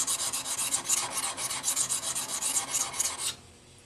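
A blade held in a honing jig is rubbed back and forth on an oiled sharpening stone to form a micro bevel, rapid even rasping strokes close up, ending abruptly into quiet.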